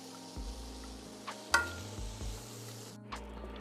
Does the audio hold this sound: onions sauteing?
yes